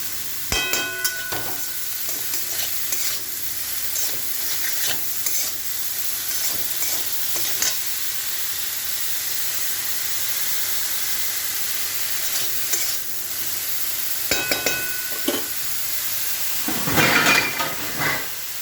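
Broccoli frying in a pan is stirred steadily, giving a continuous close sizzle and hiss with scraping and clattering strokes throughout, alone and without talk.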